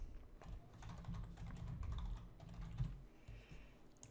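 Soft, rapid keystrokes on a computer keyboard patter in quick irregular bursts, close and quiet, with no talking.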